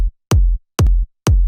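Three isolated electronic kick drum hits, each a sharp click dropping into a deep booming thump, evenly spaced with silence between.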